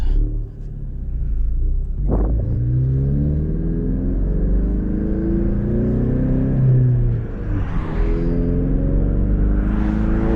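A Ford Mustang EcoBoost engine hums at light throttle while driving, a steady low rumble with a brief rev swell early on and gentle engine whir throughout, close and continuous.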